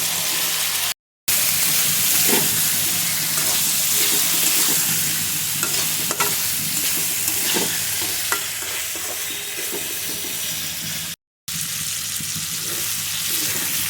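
Jhunjhuna vegetable and potato pieces frying in a pan, a continuous loud sizzle with scattered stirring scrapes and clinks, and no talk.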